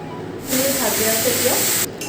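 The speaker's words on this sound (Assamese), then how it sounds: "এনেদৰে কলডিলখিনি ভালদৰে পানীৰ পৰা টুকি লৈ মই এনেদৰে দি দিছোঁ কেৰাহীত" Colocasia (kol dil) drained of water hits a hot wok with a sudden loud sizzle that bursts in, holds steady for over a second, then cuts off abruptly, with a voice talking over it.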